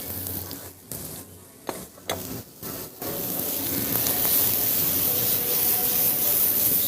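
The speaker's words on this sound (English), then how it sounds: "Saute that nicely." Peppers, red, green and yellow, sizzling steadily in a hot sauté pan, a loud continuous frying hiss with a few brief stirring breaks early on.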